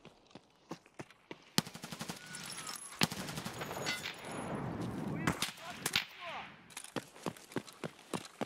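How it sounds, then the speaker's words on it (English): Rapid gunfire in the video game Escape From Tarkov: many sharp, loud shots in quick bursts, with some dense sustained firing mid-clip and scattered single cracks around it, no talking. "There's too many things shooting at me."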